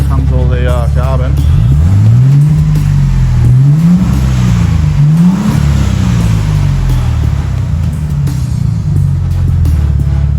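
A Ford Barra engine revs hard with the throttle held open, burning off built-up carbon in a garage: loud, rising and falling revving swells repeat steadily over a constant idle drone.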